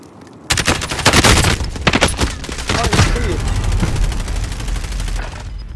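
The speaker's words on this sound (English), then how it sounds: "Someone else is sniping him." Sniper and other gunfire in the Call of Duty: Modern Warfare video game, with a rapid burst of loud shots followed by steady battle noise and scattered further shots.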